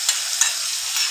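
Kofta frying in a pan with sauce, a close sizzle with a few quick scraping stirs, brief and fairly loud, with no voices.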